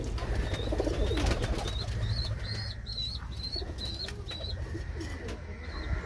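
Oman Teddy pigeons kept as a breeding pair cooing in a loft, a string of soft repeated coos near the birds over steady low background rumble and a few wing flutters, with no talking.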